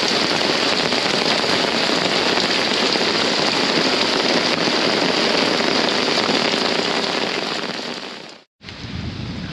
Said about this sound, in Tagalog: Karaniwang ulan lang yan.